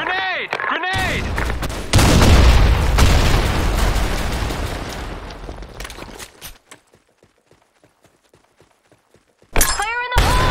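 A grenade detonates in the Blackshot first-person shooter: a loud, broad blast that rumbles for several seconds, then fades into scattered faint clicks before a voice and more action return at the end.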